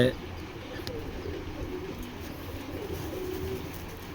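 Imported foreign pigeons, among them a ring-banded bird from 2011, coo softly in a low, murmuring pattern under a noisy background with faint voices nearby.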